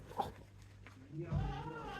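Goats kept together upstairs give a few faint bleats, a short cry near the start and a longer wavering bleat in the second half, with quiet voices in the background.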